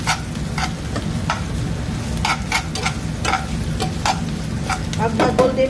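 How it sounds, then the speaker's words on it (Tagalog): Onion, garlic and ginger sauté in a hot pan, a steady sizzle of frying punctuated by repeated scraping clicks of a spatula stirring the pan. "Lutuin lang natin ang sibuyas, bawang, luya."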